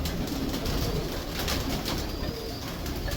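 Pigeons coo steadily nearby, overlapping soft throaty calls with occasional wing flutters. No one speaks.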